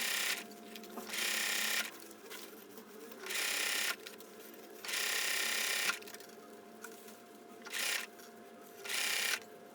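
A sewing machine stitches seams on an ultralight two-person duplex single-walled tent, running in five steady bursts of about a second or so, separated by short pauses and quiet handling.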